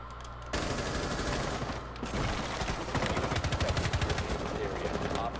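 Gunfire in the video game Rainbow Six Siege, with loud, close rapid bursts of automatic shots that build into dense, steady firing, heard alone without talk.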